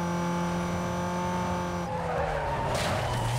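A Toyota Supra in the Need for Speed Most Wanted game roars with a steady high engine note, then breaks into a loud tire-squealing skid over the final second and a half.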